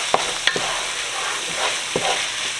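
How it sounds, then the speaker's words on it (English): Mushrooms frying with ground beef in a pan for cheesy overstuffed potatoes, a steady close sizzle broken by a few sharp utensil scrapes and clicks as the mix is stirred, no voices. "I'm going to add in the mushroom"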